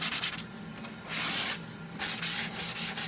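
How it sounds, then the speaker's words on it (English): Sandpaper rubs lightly over a wooden IOD transfer sign in steady back-and-forth strokes, a close, soft scratchy hiss rising and falling in several passes with no talking. "I'm just going to lightly sand this."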